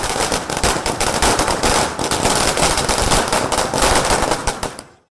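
Firecrackers burst in a rapid, dense crackling string at an AIADMK political victory celebration in Royapettah, Chennai, loud and close, continuing for about five seconds before stopping abruptly.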